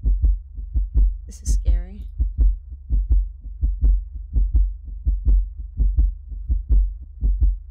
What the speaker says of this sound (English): I didn't hear the heartbeat before.